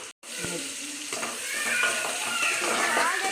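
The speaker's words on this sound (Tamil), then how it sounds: "எண்ணெயோட வெந்தயம் போட்டு அதாவது வெங்காயம் கருவேப்பிலையும் போட்டு நல்லா வணக்கி எடுத்துக்கோங்க" Onions, fenugreek seeds and curry leaves frying in oil for a fish kulambu, a steady close sizzle that swells after a brief drop, with stirring and some talk over it.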